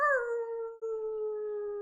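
A person imitates a wolf howl, one long sustained vocal howl that starts higher, slides down and holds a steady tone, alone and clear with a brief break midway.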